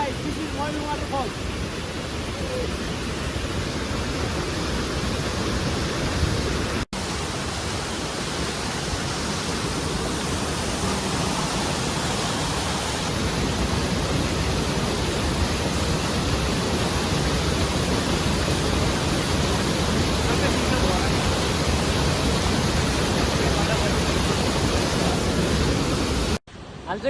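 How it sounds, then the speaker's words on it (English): Mailung Waterfall in Rasuwa, Nepal, roars as a dense, steady wash of falling water, loud and continuous for the whole stretch with only a brief break. "Guys, this is Mailung Waterfall."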